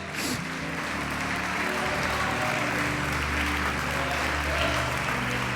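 A church congregation applauding steadily, sustained clapping from many hands with a low hum beneath, loud and unbroken.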